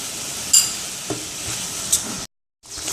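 Shredded raw green mango pickle being stirred in a pan with salt and chili powder: a soft, steady hiss with a few light scrapes and taps, briefly cut to silence near the end.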